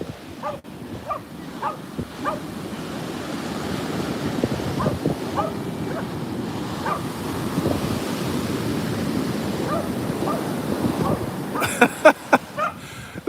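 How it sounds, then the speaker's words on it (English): Ocean waves washing in at Shell Beach, California make a steady wind-buffeted roar, with a dog barking intermittently close by on the sand. "You guys can hear the waves."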